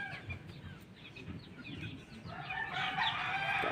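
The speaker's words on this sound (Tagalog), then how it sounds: "yung manok na yan" Farm chickens, including an 11-month-old bird, cluck steadily at a distance, and a rooster's crow rises in the last second over a dense background of flock noise.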